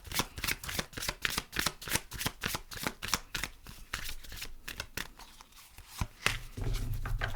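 Tarot cards are riffled and shuffled by hand close up in a quick run of crisp flutters and taps, easing off near the end with a soft thump.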